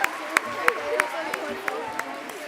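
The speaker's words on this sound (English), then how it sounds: "Let's give them another big round of applause." An audience at a school reading event applauds students with a loose round of claps, a few sharp hand claps standing out over a softer spread of clapping and crowd murmur.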